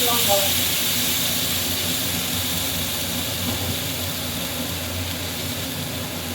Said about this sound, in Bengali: এবার আমি মশলাটা দিয়ে দিচ্ছি আছে আদা সাদা জিরে আর লঙ্কা বাটা